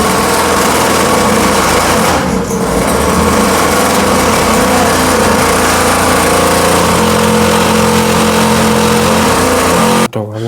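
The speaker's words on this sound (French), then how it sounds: "Mais quand on veut mettre les gaz, pouf, il se coupe." A faulty quad bike engine runs loud and close, idling with a steady buzzing drone and rising briefly when throttled, then cutting off abruptly at the end.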